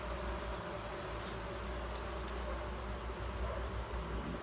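Agitated honeybees swarm around an opened hive during an inspection, a dense, continuous buzzing hum that stays loud and close throughout with no talking.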